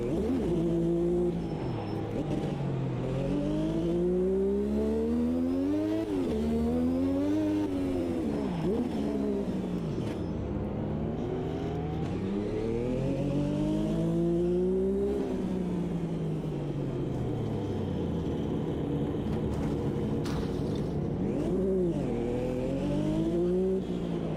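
Turbocharged race car engine in Automobilista 2 roars continuously, the pitch repeatedly climbing through gears and dropping on shifts and lifts, loud and close with no pauses.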